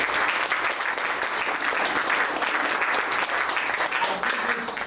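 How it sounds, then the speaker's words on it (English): Sustained audience applause at a Constitutional Convention reenactment in Philadelphia, a steady dense wash of clapping from many hands lasting the whole stretch without pause. "Give yourself goodly applause."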